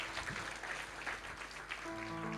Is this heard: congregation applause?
yes